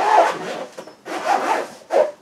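A fabric soft-case zipper on a ukulele gig bag is pulled open in three separate rasping strokes, close and fairly loud, with short pauses between them and no talking.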